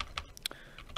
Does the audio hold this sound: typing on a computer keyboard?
yes